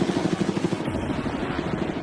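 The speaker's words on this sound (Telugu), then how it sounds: "ఆ హెలికాప్టర్ టేక్ ఆఫ్ అవుతుంది" A helicopter takes off near a private island, its rotor throbbing in a steady rapid beat with a loud, close engine roar throughout.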